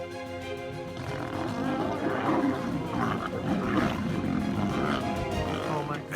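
Lions roaring in the African wild, a sustained rumbling growl and roar that carries steadily through the whole stretch, with a brief louder burst at the very end.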